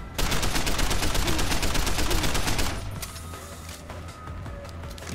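Loud, dense enemy gunfire in Deus Ex: Human Revolution, rapid automatic bursts packed together for a few seconds before dropping to scattered shots and ambient combat noise.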